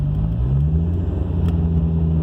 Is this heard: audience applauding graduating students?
no